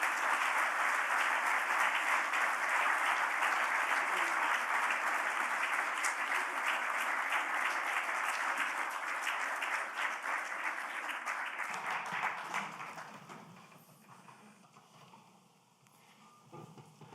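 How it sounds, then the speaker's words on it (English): A library audience welcomes an author and a guest to a talk with loud, dense, sustained applause from a packed crowd, which thins out and fades over the final few seconds. "Please join me in welcoming Kirk Wallace Johnson and Dr. Coy Lay."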